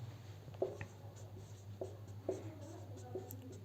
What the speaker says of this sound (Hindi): इसको यहाँ लिख देता हूँ मैं।